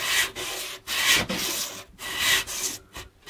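Wood is sanded by hand in firm back-and-forth strokes on a workbench, a raspy scratching that repeats in bursts with short pauses between, close and clear.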